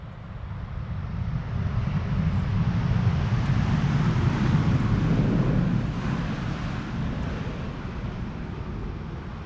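A KLM airliner arriving from New York on the Polderbaan runway at Amsterdam Schiphol during crosswind landings, heard as a steady broadband roar of jet engines and wind that swells slightly mid-pass and holds loud throughout.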